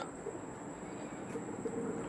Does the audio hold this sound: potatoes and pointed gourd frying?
no